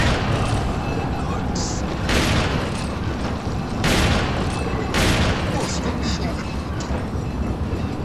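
Shotgun blasts in Resident Evil 4, several loud booming shots spaced a second or two apart over game background noise while a person talks.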